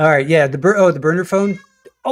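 A pet cat named Super Ball gives a few drawn-out, wavering meows, close and loud, partly overlapping a person talking.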